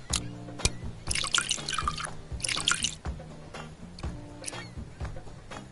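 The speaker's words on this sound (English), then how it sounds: "Pour in 40 milliliters of white rum and 30 milliliters of soda" White rum and soda are poured into a long glass packed with crushed ice, giving soft trickling and dripping with faint crackles of ice, quiet and close, no voices.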